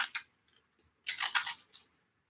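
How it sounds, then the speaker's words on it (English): Snips cutting a snake plant leaf for water propagation, two or three short crisp cuts then a longer burst of snipping, close and alone. "Now, firstly, I should make a very clean cut."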